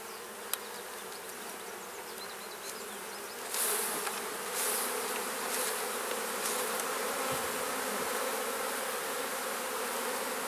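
Dense, steady buzzing of many honeybees close by on a hive frame during honey extraction, swelling a little louder partway through with occasional soft knocks.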